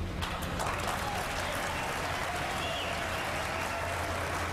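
Debate audience applauding, a steady, moderately faint wash of clapping that runs throughout the short stretch, with a voice faintly present beneath it.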